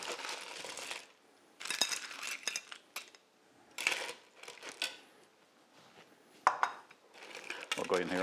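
Plates, bowls and metal utensils clink and scrape in bursts while Thai sweet chilli cockles in Nam Jim Gai sauce are served, with quiet pauses between clusters of sharp clattering.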